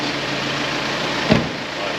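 A VW Amarok pickup's engine idles normally, a steady, even mid-level hum with no revving, heard close with one brief bump partway through.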